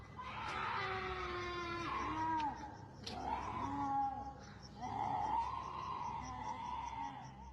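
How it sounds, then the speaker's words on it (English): Shrill, wavering screams ring out at night, several rising and falling wails in a row, a little distant and fairly faint, like an animal shrieking outside. "the night air is filled with the chilling sounds of blood-curdling screams"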